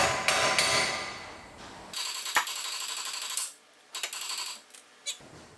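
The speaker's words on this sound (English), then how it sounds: "once you get that bolt loose, just tap it a little bit" Hammer taps knocking a loosened lower control arm bolt free on a 2003 Ford Ranger during ball joint work, a few sharp metallic strikes at close range between stretches of shop noise.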